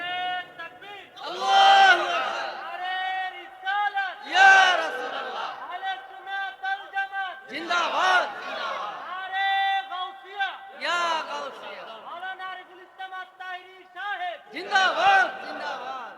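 A crowd at a Bengali Islamic sermon gathering chants the takbir back to the preacher in loud, repeated unison bursts of many voices, rising and falling across the stretch.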